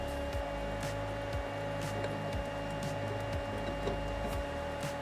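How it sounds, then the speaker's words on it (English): Cooling fan of a Creality Halot-Mage 8K resin 3D printer runs loudly and steadily with a constant whir and tonal hum, plus faint rhythmic clicks from the machine, with no talking. "The fan on this is pretty loud,"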